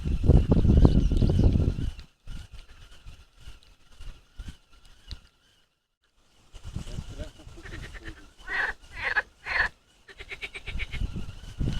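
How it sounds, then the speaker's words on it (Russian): Frogs croak among water lilies on a pond during a windy outing, with intermittent bursts of throaty, pulsing calls. Muffled wind rumble and handling noise are heavy at the start, followed by a near-silent gap. "Лягушки."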